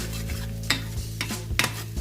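Spices sautéing in a pan for a tilapia marinade, a soft steady sizzle broken by several sharp scrapes and stirs of a utensil against the pan, close and quiet with no talk.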